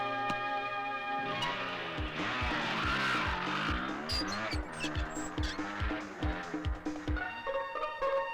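A motorbike engine starts and revs through several rising and falling pulls before riding away, the revving loud and continuous for most of the clip.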